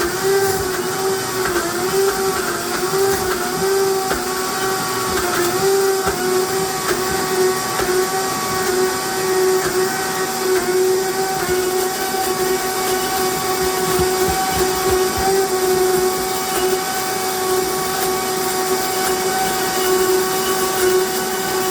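A blender blending basil pesto runs loud and continuous, a steady whirring motor drone with a grinding, churning texture that holds throughout with no talking.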